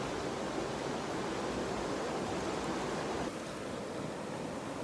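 Water sloshes in a gold pan as bedrock material is panned, a continuous dense wash of swirling water, close and steady, with a slight shift in texture near the end and no talk.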